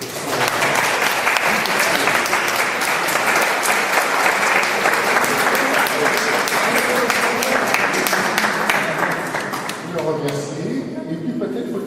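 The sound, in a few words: audience applause after a talk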